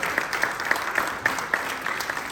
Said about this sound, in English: I'm going to have them all come out for a last minute round of applause.